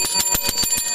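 A small bell rings in a quick, even series of about six bright strikes, loud and close, each with a short shimmering ring.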